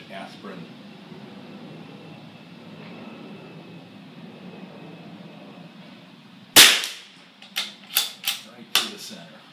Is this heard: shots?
yes